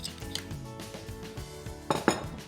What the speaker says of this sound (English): a little bit of salt and pepper, and I'll stir this